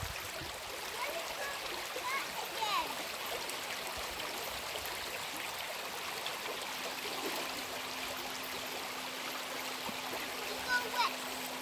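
A shallow river stream flows steadily with a constant broadband rush and light splashing, close by, during a test sail of an RC model boat, with speech audible at times.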